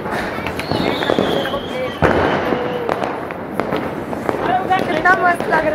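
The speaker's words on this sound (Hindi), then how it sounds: "हम जला रहे हैं स्काई शॉट" Sky shot fireworks set off during Diwali celebrations, a rising whistle followed by crackling bursts and pops, with excited voices talking and shouting throughout.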